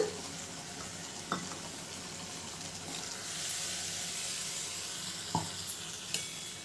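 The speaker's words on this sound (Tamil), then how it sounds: "நல்லா புளி தண்ணி கொதிக்க ஆரம்பிச்சிட்டு பாருங்கள்" Tamarind water simmers in a pan for a Tamil pineapple curry, giving a steady soft bubbling sizzle that swells toward the middle, with a few light clicks of a spoon or pan along the way.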